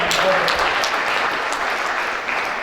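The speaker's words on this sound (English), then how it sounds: "Members, you have to clap and clap to everybody." Members of an assembly audience applaud together, a dense, steady wash of clapping from start to finish with a few voices mixed in.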